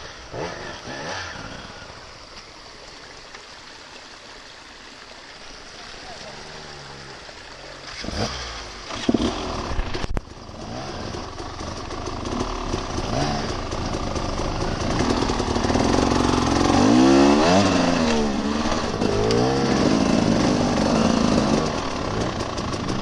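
A motorcycle engine rumbles close by on a trip to the Buhovo waterfalls, its revs climbing and growing louder as the throttle opens, with a gritty, sustained roar in the second half.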